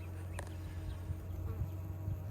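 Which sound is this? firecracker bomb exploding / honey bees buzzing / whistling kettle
honey bees buzzing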